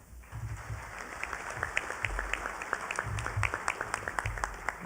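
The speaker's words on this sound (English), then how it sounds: "so a round of applause for Gay" A modest round of applause at a business breakfast welcomes a new hospice CEO: scattered, distinct hand claps build up over a low room rumble, fairly quiet and distant, continuing steadily throughout.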